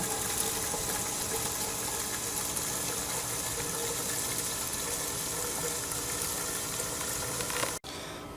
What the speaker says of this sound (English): I'm not so concerned about using the garden hose at this moment